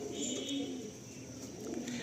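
Pigeons of Madrasi, Andhra and Malwai breeds coo in a low, steady murmur with a few higher chirps, fairly close and continuous, no talk over them.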